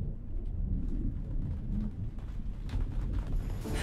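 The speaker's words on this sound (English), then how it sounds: "Then it began to rain." Steady rain falls with a low, rolling rumble of thunder underneath, building into a few sharper crackles near the end.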